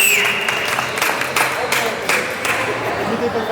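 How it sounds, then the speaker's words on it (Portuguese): An audience at a nerd-culture talk on Brazilian superheroes applauds a guest, a steady, moderately loud patter of many hands with a few sharper claps, while voices murmur underneath. "Palmas pra ele."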